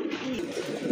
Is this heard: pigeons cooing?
yes